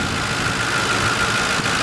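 A serviced 2008 Ford Crown Victoria Police Interceptor idles with an even, low, steady hum. The engine is close and unchanging for the whole short stretch.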